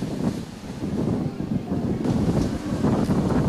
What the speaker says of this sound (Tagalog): hinahampas ng malakas na hangin